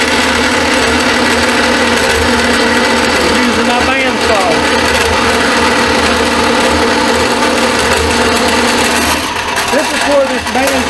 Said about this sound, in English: That's what I'm doing. I'm using my bandsaw.